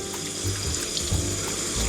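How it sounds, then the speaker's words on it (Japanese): Tap water showers steadily onto bean sprouts in a container, a continuous close splashing rush with a low pump-like hum underneath. "もやしくんたちにシャワーを浴びせたいと思います"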